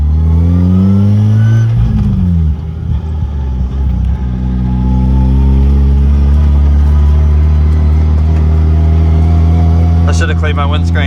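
A rotary-engined BMW E36 hums and revs as it drives, its loud engine note climbing and settling with steady harmonic tones, while someone talks over it close by.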